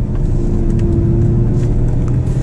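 A Ferrari F12 drives through a series of turns, its engine giving a loud, steady low roar with slight shifts in pitch as it carries through the corners.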